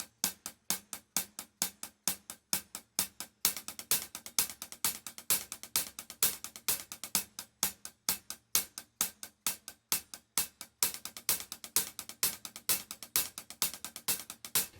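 Fast hi-hat strokes at a steady 32nd-note pace, right hand on 16ths with the left hand filling the gaps between them, crisp and close with a regular accent pulse running the whole time, no talking.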